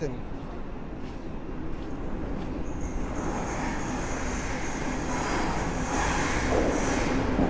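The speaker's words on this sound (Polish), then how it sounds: "Pociąg Intercity Sobieski z Warszawy Wschodniej do stacji Wiedeń Westbahnhof z grupą wagonów Euronight Adriatic Express wjeżdża na tor 6 przy peronie 4." Intercity Sobieski passenger train from Warszawa Wschodnia to Wien Westbahnhof, carrying Euronight Adriatic Express cars, pulls into a station platform track with a steady rumble and faint wheel squeal, while a loud station announcement plays over it.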